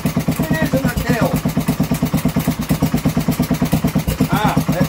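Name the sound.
Kohler K series engine running after restart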